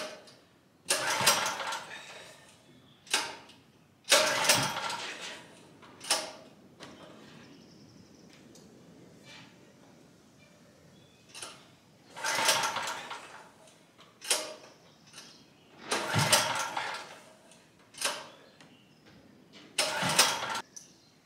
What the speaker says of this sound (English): I'm going to be really disappointed if this doesn't start.